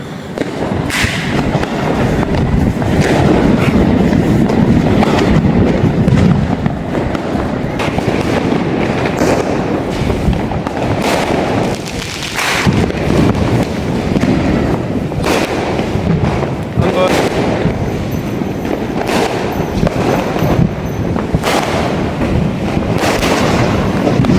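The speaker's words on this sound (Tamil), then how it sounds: "ஒவ்வொரு வீட்டுக்கு முன்னாடி பாருங்க அப்படி வெடியெல்லாம் கொடுத்துறாங்க." Firecrackers are set off in front of houses in Chennai, a loud, continuous barrage of crackling bursts and dense popping that goes on for over twenty seconds with hardly a break.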